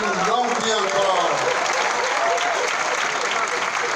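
Audience applause rolls on at a French political gathering as a broad, steady wash of clapping, with a voice briefly speaking over it at the start.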